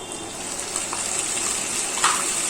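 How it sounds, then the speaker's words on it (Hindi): Tomato paste goes into onion, ginger and garlic frying in a pan, giving a steady, moderate sizzle with a slight surge near the end. "अब इसमें हम डालेंगे टोमेटो का पेस्ट"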